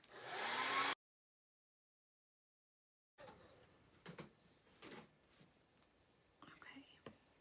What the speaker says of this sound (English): Dry these really quick. And I'm going to dry the star.